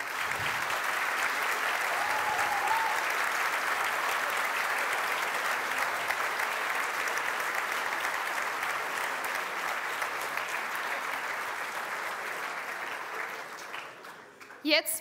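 A crowd gathered for a student racing team's car rollout event claps in a sustained, full round of applause that stays strong for most of its length, then thins out and tapers off near the end.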